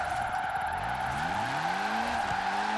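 Tires squealing in a continuous drift from an all-wheel-drive tuned car in Forza Horizon 4, a sustained screech over the droning engine whose pitch rises and bends as the slide continues.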